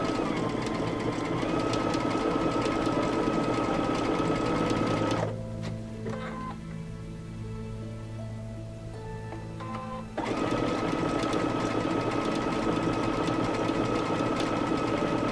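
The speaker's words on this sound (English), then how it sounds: "I can zoom in here and sew this for you." A sewing machine stitches starched fabric in a steady, fast mechanical rhythm, close and loud, pausing briefly in the middle at a quieter hum before running again at full speed.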